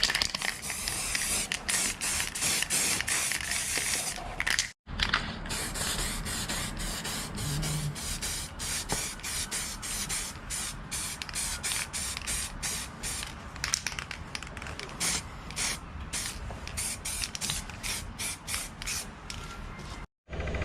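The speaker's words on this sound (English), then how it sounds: "And the cable grommets need spraying as well." Spray paint from an aerosol can coats the cable grommets on a Yamaha QT50 moped: a long run of short, hissing bursts that repeat in a fairly regular rhythm at close range, with one brief pause.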